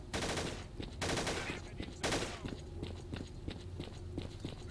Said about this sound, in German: Schießen die drauf.